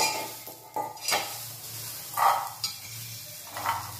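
Coarsely ground pigeon pea kernels are roasted and stirred in a pan, with soft scraping strokes and occasional metallic clinks of the spatula against the pan over a faint low hum.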